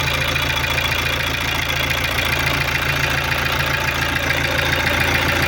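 A Fiat Stilo 1.9 diesel, running again after a timing belt failure, idles steadily with a continuous, even engine drone close by. No one speaks.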